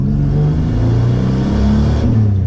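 Project F car accelerating hard in first and then second gear, a loud close engine roar with rising pitch, brief shift break near the end, no talking.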